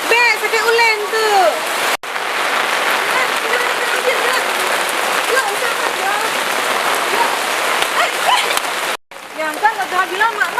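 Heavy rain pours steadily on a surface, a dense continuous hiss filling the scene, with voices talking over it and two brief cuts in the sound.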